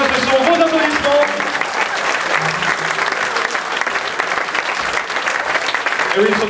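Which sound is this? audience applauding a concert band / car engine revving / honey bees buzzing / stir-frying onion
audience applauding a concert band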